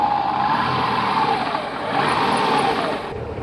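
A water-damaged Subaru engine runs rich and is given a little throttle, a steady mid-pitched drone that swells slightly during the revs and then eases, close up, with no talking.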